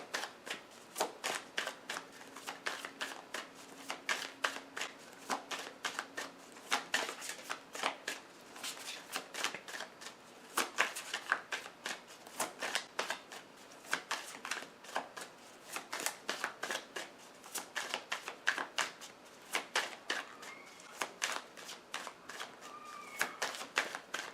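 A deck of tarot cards is shuffled over and over in a quiet room, a long run of soft, rapid riffling bursts with short pauses between them.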